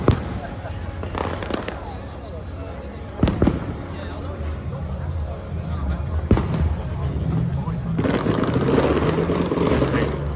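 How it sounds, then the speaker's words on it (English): Fireworks going off at the Goodwood Festival of Speed, a handful of sharp distant bangs spaced several seconds apart over a steady outdoor crowd-and-engine rumble, with a voice talking throughout. "There are now fireworks going off over there."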